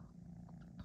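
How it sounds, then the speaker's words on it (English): A soft, low purring rumbles steadily up close, quiet and continuous. "You can hear the purring cat on her lap"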